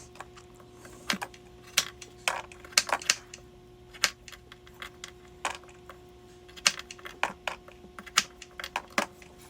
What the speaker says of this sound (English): now I'm just have to peel my carrots